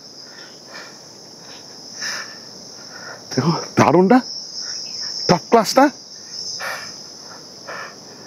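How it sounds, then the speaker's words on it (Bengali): Crickets chirp in a steady high-pitched trill near a mangrove-lined sea beach at Bakkhali, continuing under a person's excited speech. "চারদিকে ঝিঝি পোকার ডাক"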